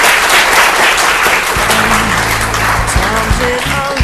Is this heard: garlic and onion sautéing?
no